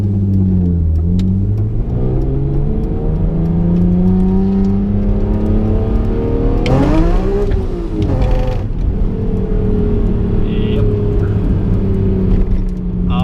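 A BMW E46 M3 engine idles with a deep intake drone, then revs up sharply twice, the induction roar rising and falling before settling back to a steady hum.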